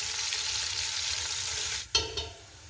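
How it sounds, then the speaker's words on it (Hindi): Onions frying in a pan for beef biryani, stirred so the steady sizzle runs close and loud, then a sharp scrape of the spoon and a second brief clatter near the end. "इसको अच्छे से हिला लेंगे हम और हल्का गोल्डन ब्राउन होने तक इसको पकाएंगे"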